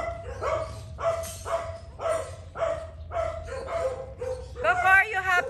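Dogs barking outdoors at a house in Bulacan, heard as a run of about eight loud, close barks in a steady rhythm, followed by yipping and whimpering. A person talks over the barking.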